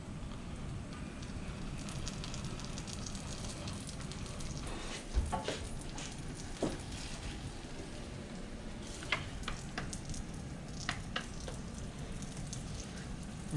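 A quesadilla sizzling in butter in a cast iron pan, a steady close crackling sizzle with occasional sharper pops and spatters, continuous and moderately loud with no talking.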